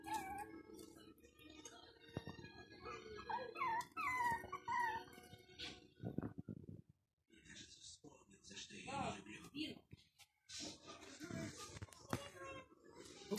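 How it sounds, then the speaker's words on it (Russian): A tiny chihuahua puppy whines and whimpers in high, wavering bursts, close and fairly loud, broken by brief pauses and a near-silent gap midway, with some faint background voices. "Такая маленькая собачка, маленькая."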